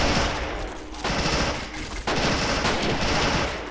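Sustained machine-gun and rifle fire rattles through a World War II battle in Men of War: Assault Squad 2, with Finnish defenders holding a road. Dense, continuous bursts carry on with a brief lull near the middle, and no voices break in.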